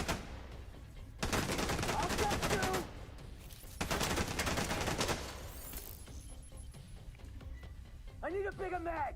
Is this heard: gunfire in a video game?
yes